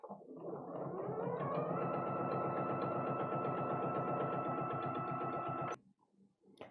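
A sewing machine runs in one long, steady, loud burst while stitching a pocket onto a passport wallet, then stops abruptly near the end, leaving brief quiet handling sounds as the needle stays down for a pivot.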